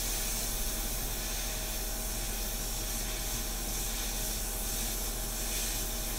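Constant airy hiss of an airbrush spraying India ink without a break, even and steady throughout, with no voices.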